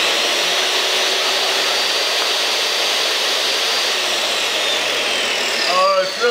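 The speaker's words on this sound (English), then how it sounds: "so we know the saw can start" A table saw with a 15 amp motor runs on an off-grid solar inverter, a loud steady whooshing roar that holds throughout, with a brief shift near the end.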